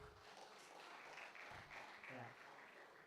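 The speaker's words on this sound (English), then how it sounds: "Claps, guys." An audience at a Chennai JavaScript and MongoDB meetup claps for prize winners, a soft, distant patter of applause spread across the few seconds, with voices talking over it.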